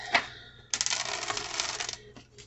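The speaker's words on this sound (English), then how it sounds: "Let me give these a shuffle real quick." Tarot cards being shuffled by hand, a short crisp riffle followed by a longer dense rustling flutter of cards, close and fairly quiet, with no voices.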